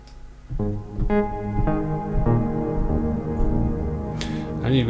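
A few plucked guitar notes swell into a huge, dense plate reverb at maximum decay on a Mercury 4, hanging in the air and barely decaying over several seconds.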